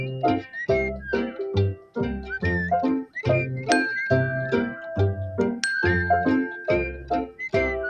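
Bright bell-like chimes ring in a quick repeating pattern over a musical backing, with a couple of sustained high tones standing out.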